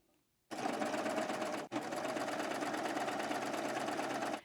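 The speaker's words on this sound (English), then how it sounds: "Just gonna repeat the process and do my serging the same way as before." A serger sewing machine stitches fabric in a loud, rapid, continuous whir, pausing for a split second before resuming at the same steady pace.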